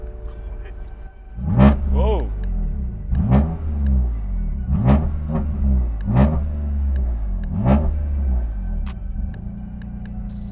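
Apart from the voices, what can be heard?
car engine starting and revving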